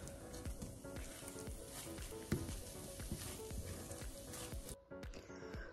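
Eggs fry in a pan for a breakfast, giving a steady close sizzle and crackle with small pops throughout and a brief dip near the end.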